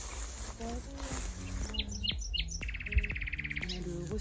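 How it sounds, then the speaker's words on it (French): A nightingale sings close by outdoors, a run of varied whistles, trills and rapid buzzy notes, with other faint bird calls and rustling in the background. "On a le rossignol qui chante juste à côté de nous."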